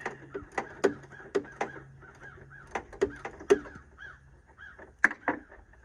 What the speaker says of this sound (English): Hopefully I don't get attacked by crows today. You can hear those.